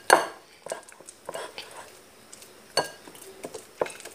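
A spoon clinks and scrapes against a dish while butter is mixed for a cake, a few sharp metallic taps spaced irregularly with quieter scraping between them.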